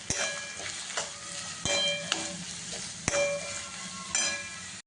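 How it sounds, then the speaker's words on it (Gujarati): Crushed ginger, garlic and green chili are stirred in a sizzling pan for a vegetable manchurian gravy, with a spoon scraping and clinking at a few sharp strokes over steady frying, no voices. "પછી આ બધાને આપણે એકદમ સારી રીતે હલાવી દઈશું."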